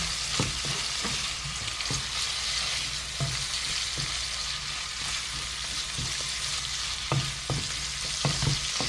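Fish goes into a hot frying pan with kale, giving a loud, continuous frying hiss with occasional sharp clicks and spatter pops, close up and with no voices.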